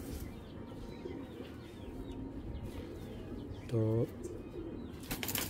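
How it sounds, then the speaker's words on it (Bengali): A female khaki pigeon gives a single short, clear coo partway through, set against steady background noise and faint scattered chatter. "মাদি কবুতর আছে"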